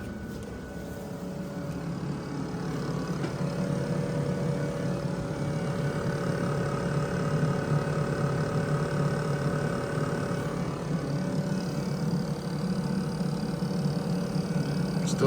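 Ford F650 truck engine idling after a turbo install, a steady low rumble with a faint whine, heard from nearby at moderate level with no break.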